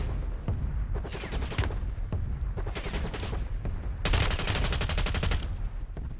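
Bursts of automatic gunfire from bots in a Verdansk video game match, several loud, rapid rattling volleys separated by short gaps, with a longer sustained burst near the end.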